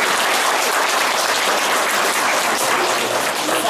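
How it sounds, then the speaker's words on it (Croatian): A school crowd gives steady, dense applause for first-graders starting primary school, sustained and loud from start to finish with no voices standing out. "Ajmo jednim aplauzom, bravo!"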